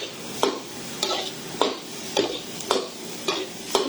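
Pork innards are stirred in a watery pot for Kapampangan kilawin, a ladle scraping and clanking against the metal about every half second in a regular rhythm, close and clear over a soft bubbling hiss.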